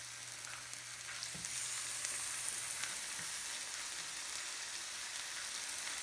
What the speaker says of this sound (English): as soon as we put the chicken breast on there, it should sizzle right away